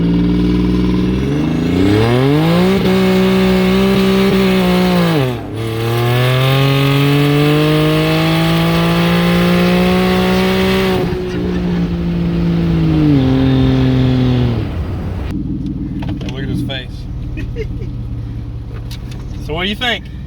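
Turbocharged car with an AMR kit and COMP 6875 oilless turbo making over 600 wheel horsepower, accelerating hard through gears: loud rising engine howls dropping at each shift, heard from inside, with people talking over it.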